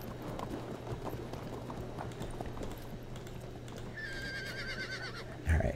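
Horse archers advancing in the strategy game Field of Glory II, with steady clip-clopping hooves and a horse whinnying over a constant battlefield bed, then a brief louder thump near the end.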